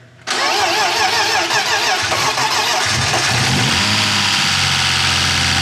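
A rebuilt BMW E36 engine cranks and fires up for the first time, catching abruptly after a brief quiet moment, then running loud and steady with rising revs before settling toward idle, close by with no talking.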